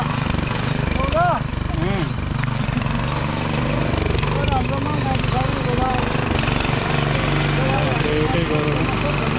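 A tractor engine runs steadily in a rice paddy field during rice planting, a continuous rumbling drone with voices talking and calling over it throughout.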